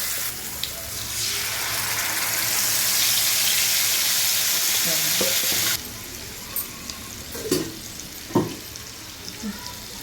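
Water rushes and hisses into a hot pan of curry-leaf paste for several seconds, loud and close, then settles into quieter bubbling with a few soft clinks.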